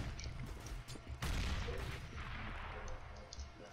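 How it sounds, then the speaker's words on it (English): A flashbang grenade bursts in the game CS:GO, a sudden loud blast at about a second in that rolls into a sustained harsh wash of noise and ringing, with scattered game sounds around it. "I'm throwing flashbang."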